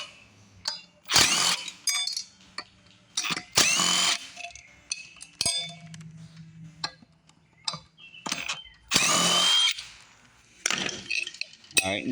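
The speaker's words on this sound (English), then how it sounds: "this is where your impact's going to come in right here. You're going to need your 1/2 inch to take these bolts off the back" Half-inch impact wrench removing the rear wheel bolts on an Exmark walk-behind mower, several short loud rattling bursts separated by pauses, with metallic clinks of bolts and tools between them.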